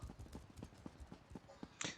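A horse's hooves clip-clop in a steady, quiet rhythm in a video game, with a short brighter rustle near the end.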